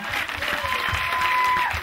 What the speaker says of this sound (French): On l'applaudit vraiment bien fort